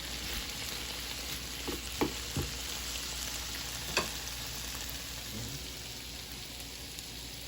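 Food frying and sautéing in a pot, a constant close sizzle with a few sharp clinks of a utensil stirring against the metal.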